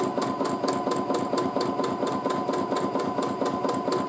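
A sewing machine free-motion quilting through leftover fabric and batting scraps runs steadily and close by, a continuous motor hum with a rapid, even needle pulse throughout.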